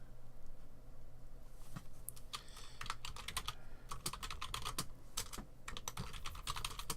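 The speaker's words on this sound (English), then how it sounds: "And you just start typing it." Quiet clicking of keys on a computer keyboard comes in irregular bursts of fast typing with short pauses, close and faint over a low steady hum, with no voices.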